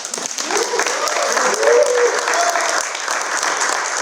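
An audience at a conference breaks into applause, a dense crowd clapping steadily for several seconds, with a voice heard faintly underneath.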